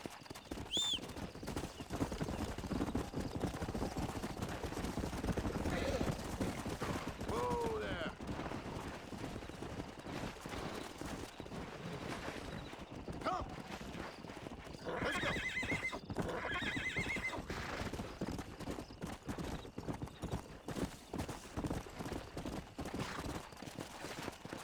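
Horses in the Red Dead Redemption video game whinny and neigh over steady hoofbeats of clip-clop galloping, with a high whinny near the start and more neighing midway, under intermittent talk.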